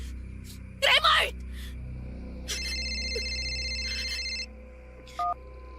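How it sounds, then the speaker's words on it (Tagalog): A cellphone ringing in a living room, an electronic ringtone lasting about two seconds, followed by a short beep. It comes after an earlier burst of breathy noise over a quiet room hum. "Narinig kong nag-ring yung cellphone mo dito sa sala."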